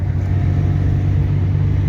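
A car cruising in fifth gear on an open highway above 60, with a steady low engine drone and road rumble heard from inside the cabin, constant and unbroken, with no talk.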